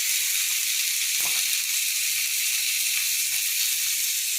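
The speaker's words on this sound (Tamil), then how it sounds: "நல்லா கொஞ்சம் வறுத்து எடுக்கணும், வறுக்கணும்." Stuffed bitter gourd fries on a flat griddle, giving a loud, steady hiss of sizzling oil with a faint tap or two near the start.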